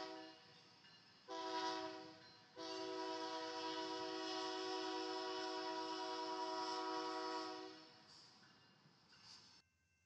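A BNSF freight train led by EMD diesel locomotives, including a former Santa Fe SD45-2 from 1973, sounds a long chorded horn, first a short blast then a sustained one lasting several seconds, moderately distant, fading at the end.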